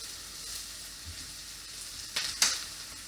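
Garlic sautéing with softened onion in a pan as meatballs and marinara are prepared: a soft, steady sizzle throughout, with two brief louder bursts of crackle near the end.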